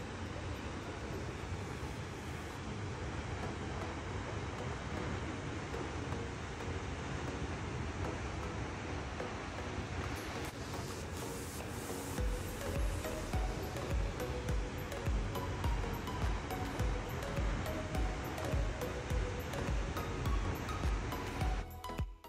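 Vernal Fall on the Yosemite Mist Trail sends up a continuous, loud roar of rushing water, a dense, unbroken wash of noise throughout.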